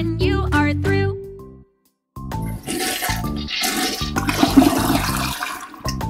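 A toilet flushes in a Sesame Street potty-training game, a loud rushing gurgle of water after a short musical jingle and a brief silence, lasting several seconds.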